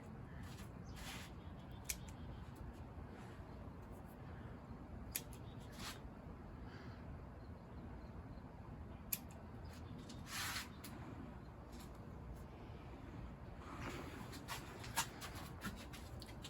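Scissors prune the top growth of a juniper bonsai in quiet, scattered snips and clicks, some grouped in quick clusters, with soft handling rustle between cuts.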